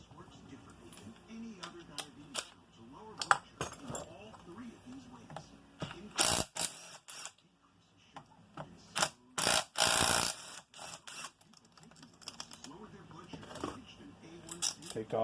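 Ratchet clicks on Allen-head bolts of a Yamaha YZ250 engine case being split, several bursts of loud, rapid near ratcheting separated by pauses, with workshop handling noises and someone talking between them.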